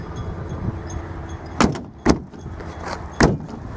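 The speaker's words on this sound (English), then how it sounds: "And the bonnet doesn't want to shut" Toyota Supra MK-4 bonnet being shut, three sharp metallic thumps of the hood dropping and slamming, close up, with a faint background hum between them.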